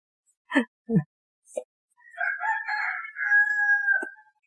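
A few soft knocks and clicks come first, then a neighbour's rooster behind the house lets out one long, clear crow that trails off on a held note, heard alone.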